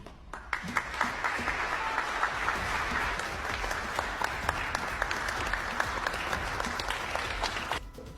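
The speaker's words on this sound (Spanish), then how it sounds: "la OEA se paró a aplaudir al presidente Petro" Steady applause from a large crowd at the OAS fills the room, many hands clapping continuously at an even level before fading at the end.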